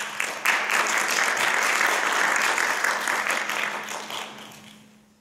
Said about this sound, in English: I would like to welcome him with big applause.